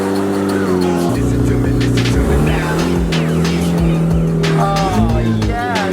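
A loud Toyota 1JZ-engined car drives hard in steady wavering engine drone with shifting pitch, tyre noise and a few whoops and shouts from people aboard.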